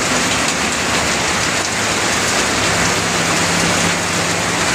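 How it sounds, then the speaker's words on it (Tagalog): Heavy rain pours down steadily in a dense, continuous hiss, with a low rumble of wind underneath and no voices, during a storm with strong wind beside a river. "Tumatakbo ang ulan, umaanggi."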